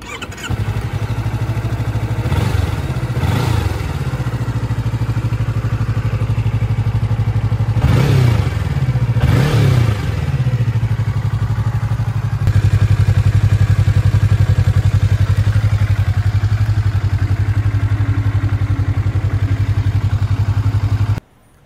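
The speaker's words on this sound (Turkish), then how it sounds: "Bakalım rodaj sonrasında motorun sesi nasıl olmuş?" A 2020 Yamaha R-25 motorcycle idles steadily with a low, even exhaust drone, broken by several sharp throttle blips that rise and fall, the engine running alone and close throughout with no talk.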